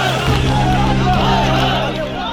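A crowd of protesting supporters gathers in Jaipur, a dense, steady hubbub of many voices and murmuring chatter close around, with speech mixed in throughout.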